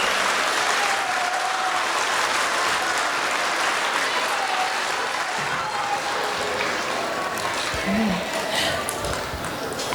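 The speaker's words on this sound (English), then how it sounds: "Let's give a round of applause for our veterans and performers this afternoon." An audience at a middle school Veterans Day celebration applauds veterans and performers, steady dense clapping filling the whole stretch at an even, moderately loud level.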